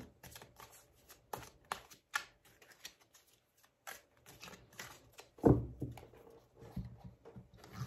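Tarot cards being shuffled and handled close by, with bursts of riffling and quick flicks separated by short pauses, then a louder slap of cards followed by softer rustling.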